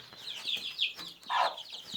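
Chickens in a coop cluck in a rapid, overlapping series of short calls, close by, with one louder squawk partway through.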